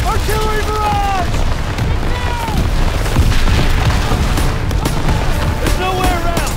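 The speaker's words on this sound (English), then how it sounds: "Artillery barrage!" Artillery barrage in the Call of Duty WWII campaign, with heavy booming explosions and rumbling blasts crashing continuously and loudly under shouted voices.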